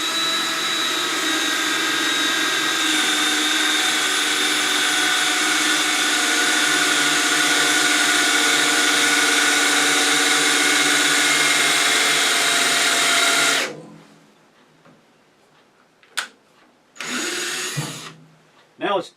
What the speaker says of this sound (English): We'll just use an electric drill. I'm using a 1/2 inch drill bit